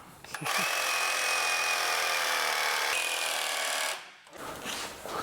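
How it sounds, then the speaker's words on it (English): A reciprocating saw buzzes loudly and steadily for about three and a half seconds, carving out a rubber suspension bushing on a Ford Falcon, then cuts off, leaving quieter rustling noise. "Recipro's the best for these. Because you carve the rubber out with it"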